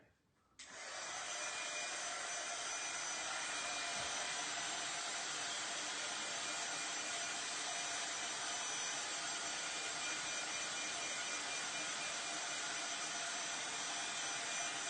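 A hair dryer switches on after a brief pause and blows steadily and loudly for the rest of the stretch, a constant broadband whoosh close to the microphone with no talking over it.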